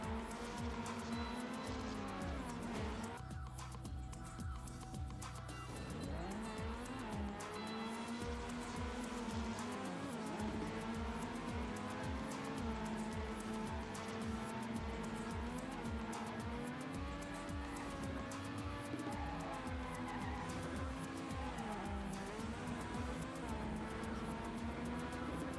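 Racing car in TrackMania United Forever on the Star Track campaign, its engine droning loud and steady throughout, with a brief tire skid as it brakes hard near the start.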